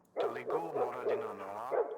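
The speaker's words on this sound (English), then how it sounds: "like a barking dog just then" A dog barks in a video game, with several quick yelping barks in a steady rhythm over about two seconds, fairly faint and alone.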